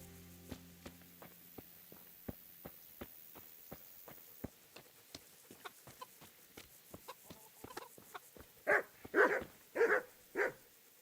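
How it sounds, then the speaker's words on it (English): Dog barks in the medieval role-playing game Kingdom Come: Deliverance, loud and close, a cluster of several sharp barks near the end after a steady run of faint rhythmic ticks and clucking, with no talk. "Can you help me with training my dog?"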